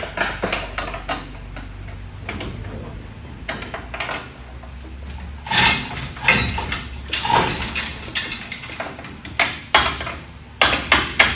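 Metal tools clank and tap against a C-10 engine while it is being removed: a run of sharp, irregular hammer strikes and scraping knocks, loud and close, some in quick bursts and others spaced apart.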